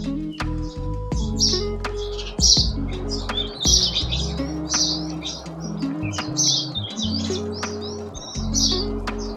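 Sparrows chirp repeatedly at their nest around a home, bright tweets coming in quick bursts over low rumbling household noise, with no talking.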